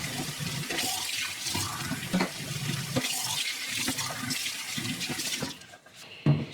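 Water running from a tap into a sterilizing bucket, a steady close hiss and splash of filling that stops abruptly near the end.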